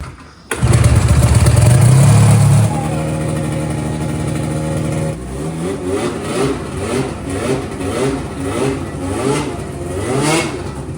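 A 100 HP two-stroke hovercraft engine catches abruptly and runs loud, then shifts into a rough, buzzing rev that rises and falls in repeated surges.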